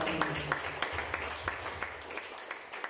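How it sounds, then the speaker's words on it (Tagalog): Church congregation at a pastor's sermon joins in applause, many hands clapping in a steady rhythmic beat with sharp regular accents, fairly close and continuous, with faint voices mixed in. "Palakpak tayo ng mga kapatid."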